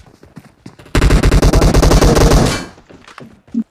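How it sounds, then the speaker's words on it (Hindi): Gunfire in the mobile shooter PUBG Mobile: one loud, fast automatic burst of about a second and a half, with a few faint clicks and thuds before and after. "एक गोली मार, एक गोली मार, शॉट ही पड़ चुका है एक"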